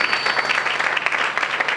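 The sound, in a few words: congregation applauding for Jesus Christ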